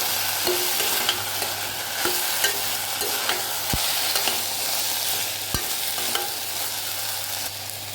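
Carrots and green peas stirred together in a pan for a vegetable stew give a busy, close sizzle with repeated scraping strokes and two distinct knocks of the spoon, with no voices.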